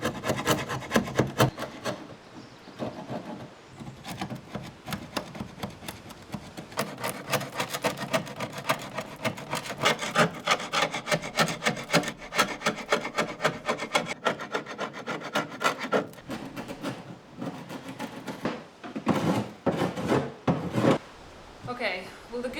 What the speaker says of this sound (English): I'm gonna just try scraping off as much as I can to begin with